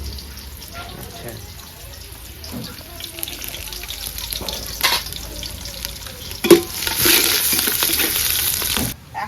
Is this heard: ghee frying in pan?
yes